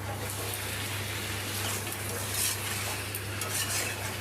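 Chicken curry being stirred in a pan over low heat, with a steady soft scraping and faint sizzle under a constant low hum; no talking.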